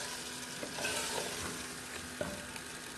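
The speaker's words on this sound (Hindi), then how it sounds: "कबाब डालने के बाद अब हम इसको अच्छे से मिक्स कर लेंगे।" Handi kababs being stirred into a sizzling masala in a pot, steady frying hiss with scraping spoon strokes and soft knocks throughout, no talk.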